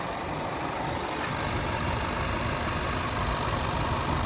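A 2014 Range Rover Sport HSE idles steadily at close range, its engine giving a constant, even hum with no revving and no one speaking.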